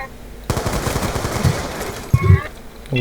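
Rapid automatic gunfire erupts in Black Ops 2 after a brief quiet start, a dense, loud, sustained burst of shots with a few heavier impacts near the end and a voice briefly audible.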